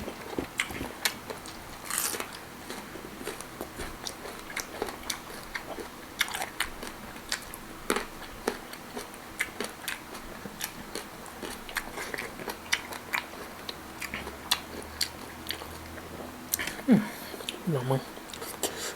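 Crunchy fresh vegetables and blanched cuttlefish being chewed up close, a steady run of crisp bites and crunches, with a voice speaking now and then over the chewing.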